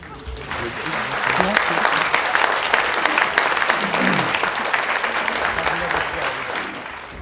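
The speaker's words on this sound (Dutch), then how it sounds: "applaus horen we nog" Sustained audience applause at a municipal award ceremony in Edam-Volendam, a dense, even clapping from a crowd that rises quickly and holds steady throughout.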